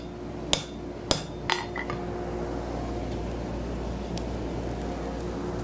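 Hammer blows upsetting the end of a one-inch 1080 steel round bar at a forge, a few sharp ringing metallic strikes early on, then a steady low hum with one faint tap later.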